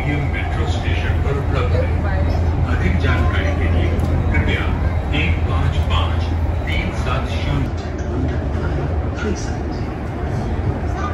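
Delhi Airport Express metro train running, a steady loud rumble and rail roar with hiss throughout, voices murmuring under it inside the carriage.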